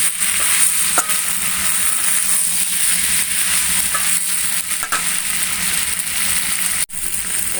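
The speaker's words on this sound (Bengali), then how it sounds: "এই যে হয়ে গেছে কষানো" A soybean, potato and egg curry fries in a pan and is stirred, giving a loud, constant hiss and sizzle with occasional scraping clicks and no voices.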